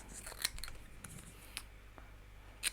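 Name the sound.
scissors snipping cardstock banner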